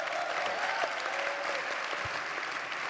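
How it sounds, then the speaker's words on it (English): Steady, fairly faint applause from an audience fills the room for students after an education discussion, continuous clapping throughout with a brief voice underneath. "Can we give a huge round of applause for our awesome students?"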